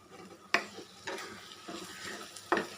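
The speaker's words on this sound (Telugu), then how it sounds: "అండి ఇవన్నీ కూడా చక్కగా ఆయిల్లో వేగిపోయినాయి కదా" Vegetables including potato and raw mango pieces frying in oil and being stirred, with a few sharp scraping stir strokes over a soft steady sizzle, close and moderately quiet.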